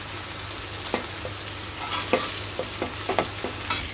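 Rice fries and sizzles in a pan, with steady crackling hiss and irregular scraping stirs of a utensil, close and alone without talk.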